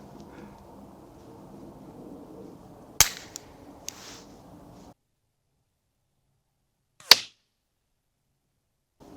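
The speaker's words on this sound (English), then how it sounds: "Let's try this again now with the suppressor." A suppressed Ruger 10/22 rifle firing Aguila Colibri ammunition gives a few short, quiet cracks over faint outdoor background, with a clear gap between the later shots.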